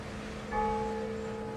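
A single faint church bell tone from São Geraldo church in Perdizes, São Paulo, rings out and hangs, slowly fading beneath a low hum of rush-hour background noise.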